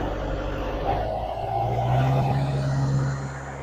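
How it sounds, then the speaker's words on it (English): Engine of an LA805 loader throttling up to drive the hydraulic pump while lifting a heavy load, a steady diesel drone that rises in pitch and holds, close and loud, then eases off slightly. "So he throttles up to keep the hydraulic pump going."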